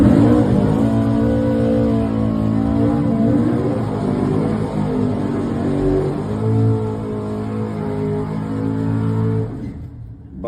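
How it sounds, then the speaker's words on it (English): A pair of S10 drag racing trucks doing burnouts before a modified final at an outlaw drag race, engines roaring loud and sustained with revving that swells and dips before cutting off abruptly. "Both of them getting after it on the burnouts"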